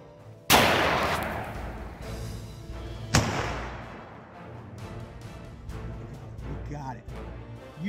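Two loud rifle shots from a Michigan firearm deer hunt at a canoe-in camp, each a sharp crack with a long rolling echo and a few seconds between them, followed by people talking.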